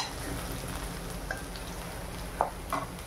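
Mustard seeds and spices tempering in hot oil in a pan, sizzling steadily, with a couple of brief scraping, clinking stirs near the end.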